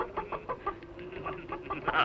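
A chicken clucks in short repeated bursts, fairly close, over a steady low background hum.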